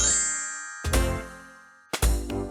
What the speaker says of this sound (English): Oh, what a cute collar with a tiny bell.